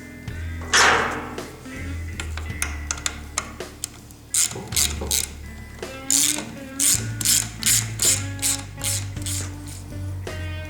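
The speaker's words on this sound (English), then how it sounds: "taking the last bolt off of our housing here" A hand ratchet clicks rapidly while backing out bolts from the water pump housing of a Mercury 50 HP outboard motor in a repair shop, the bursts of clicking close and steady with short pauses between them.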